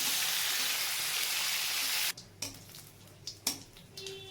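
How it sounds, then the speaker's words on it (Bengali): Fish sizzles lightly in a pan, a dense steady frying hiss for about two seconds that then stops abruptly, leaving a few faint clinks and scrapes. "মাছটা বেশি ভাজবো না, হালকা করে ভাজবো"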